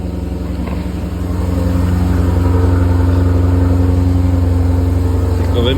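A small car engine runs loud and close, swelling after a second into a steady, even idle rumble as it warms up.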